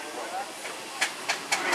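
Rhythmic puffs of steam exhaust from a nearby steam lorry at a steam and heavy horse show, four sharp chuffs over a steady hiss, with voices faintly in the background.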